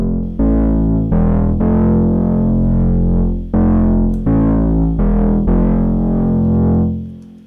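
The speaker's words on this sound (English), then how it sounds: "very important for this sound is the distortion, of course." A loud, buzzy distorted melodic techno synth bass made in the Vital synth plays sustained notes in a repeating pattern, gritty and saturated, with brief gaps between phrases and no voices.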